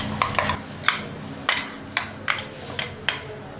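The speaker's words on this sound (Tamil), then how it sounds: "பொடியாக கட் பண்ணி வச்சுருக்கிற வெந்தயக்கீரையை மாவில் போட்டு நல்லா மிக்ஸ் பண்ணி விட்டுடலாம்" Chopped fenugreek leaves being stirred into dosa batter, a spoon or ladle clinking against the bowl in a run of sharp, close taps with short scraping strokes between them.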